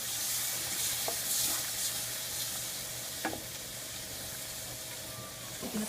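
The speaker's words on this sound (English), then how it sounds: "now it's ready for us to add in 1 cup of milk" A cup of milk goes into a sizzling roux for a stew, producing a steady hiss and bubbling with occasional spoon scrapes and taps, heard close and without talking.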